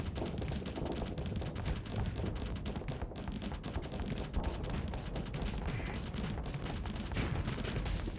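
Rapid, continuous gunfire from a ship attacking an enemy ship in a space video game, a dense barrage of close thumping shots with no pause.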